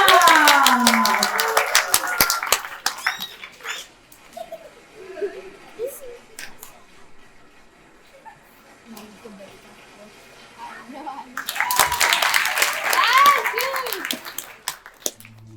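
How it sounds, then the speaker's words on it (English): A theatre audience at a Matilda performance breaks into loud clapping, first at the opening and again after a quieter stretch of murmuring and movement in the hall. "We're going to have to clap really, really hard for part 2 of Matilda."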